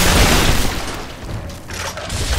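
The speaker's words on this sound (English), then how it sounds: "he exploded a million pieces when I shot him" An enemy bursting apart under gunfire in Gears of War, a loud booming blast with a crackling, splattering tail that dips briefly and then swells again.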